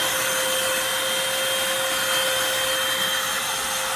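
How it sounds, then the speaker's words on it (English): A Eureka Blaze 3-in-1 stick vacuum cleaner runs on an area rug, giving a steady, loud motor whine with a constant high tone and a rushing airflow hiss throughout. "So this carpet I'm vacuuming is for an area rug."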